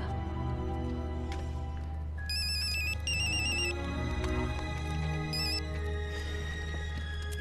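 Telephone ringing faintly in a room, a few short electronic trill bursts over a steady low hum, with no one speaking.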